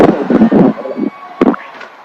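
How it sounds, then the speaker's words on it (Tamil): Fireworks bursting over a New Zealand New Year celebration, a quick cluster of loud, booming pops followed by a pause and another sharp burst, with crackling trails fading between the blasts. "அந்த வான வேடிக்கைகள் வெடிக்கின்ற காட்சிகள்"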